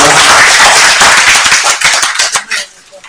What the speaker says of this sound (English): Please, another round of applause to Honorable